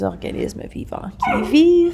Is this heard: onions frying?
no